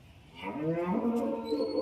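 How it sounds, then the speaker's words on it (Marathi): A dairy cow, said to give up to 35 litres of milk a day, moos at a cow market in Loni. The moo is loud, drawn out and close, and it swells over a steady market background with no clear talk. "ही गाय बघू शकता"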